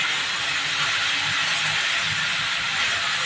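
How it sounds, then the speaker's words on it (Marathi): Moringa (drumstick) leaves simmer with water in a covered pan on a home stove, giving a steady, even steam hiss with a faint bubbling undertone that runs unbroken and fairly loud throughout. "ह्या भाजीवर आता मी पाणी ठेवून अशी शिजवून घेणार आहे, म्हणजे ती व्यवस्थित बावेल"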